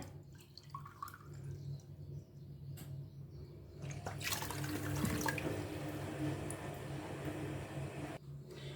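Cups of water are poured into a pot of sugar to make syrup, giving a close, burbling splash that swells for several seconds between quieter dripping moments in a kitchen.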